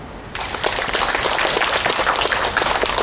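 Dense applause from an audience at an outdoor residents' protest rally over a waste facility in Woldeung-myeon, Suncheon, a steady burst of many hands clapping that swells up after a brief quiet start and holds for several seconds.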